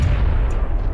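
A thrown grenade explodes in the game PUBG, a loud, heavy, close blast with a deep rumbling low end filling the whole brief moment.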